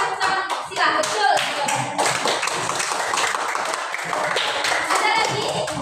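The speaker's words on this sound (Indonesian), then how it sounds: "Berikan tepuk tangan untuk sila" A classroom of students applauds a classmate named Sila, a dense burst of many hands clapping steadily for about six seconds, loud and close with a few sharper taps standing out.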